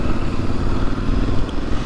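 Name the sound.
motorcycle engine during off-road ride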